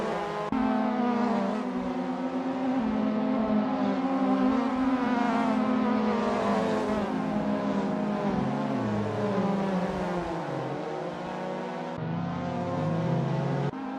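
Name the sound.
MK1 Lotus Cortina race cars roaring, video game Assetto Corsa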